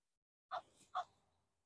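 A duck giving two short, sharp, dog-like barking calls in quick succession, close and fairly clear against silence.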